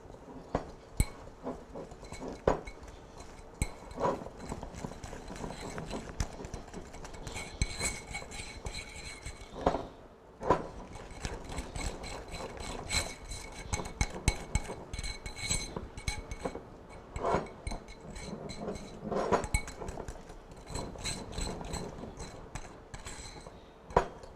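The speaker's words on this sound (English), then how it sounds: "Now I want to whisk that together." Whisking a mixture seasoned with an eighth of a teaspoon of black pepper in a bowl in a home kitchen, with steady quiet clinking and scraping of the whisk against the bowl throughout and a brief pause partway.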